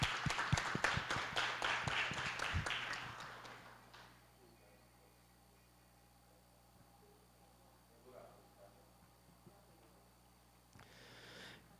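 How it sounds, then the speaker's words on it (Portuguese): Brief applause from a seminar audience at an academic round-table on culture and curriculum, a few seconds of clapping that fades out, leaving a quiet room with faint noises. "Vamos aplaudir."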